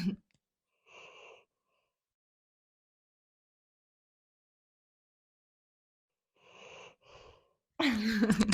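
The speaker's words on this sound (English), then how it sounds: "Ujjayi breathing through her nose as she sleeps" Two soft, raspy nasal breaths from a sleeping dog, separated by a long silence, the second a double puff, followed by a louder burst at the end.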